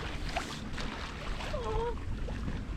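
A sailboat under full sail at about four knots in light breeze gives a steady wash of water along the hull and soft wind rush, with a brief high creak or squeal midway.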